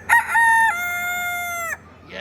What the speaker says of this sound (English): Look at all these birds, different shapes, different sizes, different colors.